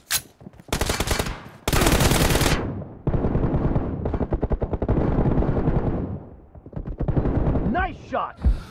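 Bursts of automatic weapon fire from PUBG Mobile, loud and dense, with several rapid volleys separated by short gaps and a quieter stretch near the end.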